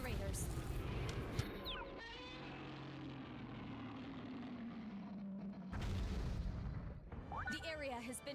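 Godzilla wrecking an area in a PS3 video game: heavy booming explosions and rumbling destruction, loud and continuous with sharp bursts, as a voice talks over it.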